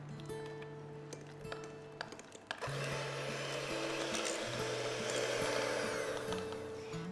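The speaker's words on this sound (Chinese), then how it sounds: "我们再加第3次， 好，同样是打发它" An electric mixer beats bread dough for a homemade toast loaf. After a quieter stretch of faint tones, the motor kicks in loudly at about 2.6 seconds and whirs steadily with a grinding, churning texture.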